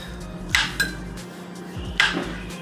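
Ingredients being diced on an Epicure cutting board, with a few sharp knocks and clatters of a knife on the board, close by, separated by short pauses and a low background hum.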